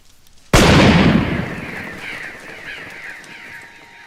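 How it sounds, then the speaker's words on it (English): One loud, sharp shot from soldiers' old guns cracks out in a TV drama, followed by a long rolling echo that slowly fades over several seconds, with no voices. "soldiers with old guns fire a few shots in the distance"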